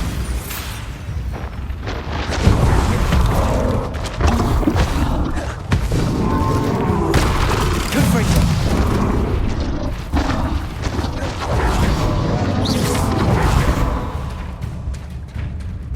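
Heavy booming blasts from the Bombarda spell in the video game Hogwarts Legacy thump repeatedly with deep, rumbling impacts amid ongoing combat clatter and music, loud and close, with voices calling out between explosions.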